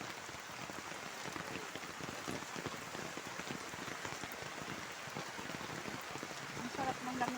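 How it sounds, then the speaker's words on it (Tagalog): Rain falling steadily on surfaces outdoors, an even, dense patter with faint drops, moderately quiet and continuous. "Umulan kasi agad."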